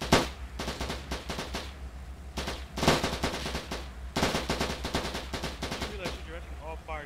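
Gunfire during a D-Day beach landing in a video game, rapid machine-gun bursts and single shots in dense clusters over a low engine drone, loud and close, with a voice briefly at the end.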